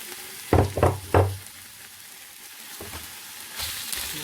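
Fresh spinach hits a hot frying pan: a few loud, separate thumps and crackles in the first second, then a steady sizzle continuing underneath, with stirring knocks near the end.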